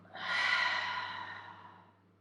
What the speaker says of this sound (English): Close them as you take a deep breath in and out.